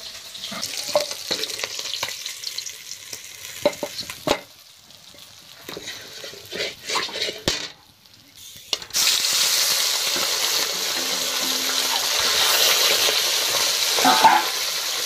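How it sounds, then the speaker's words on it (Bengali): Fish sizzling in hot oil with crackles and spatters, broken by clinks and scraping, then a louder steady sizzle for the last stretch. "মাছ ভাজা হয়ে গিয়েছে, এবার কিন্তু তুলে নিচ্ছি।"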